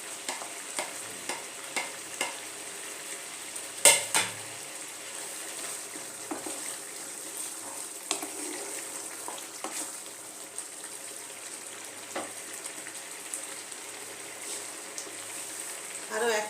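Fried onions go into a simmering kadai mushroom curry, giving a faint, steady sizzle with occasional spoon clinks against the pan while a voice talks over it.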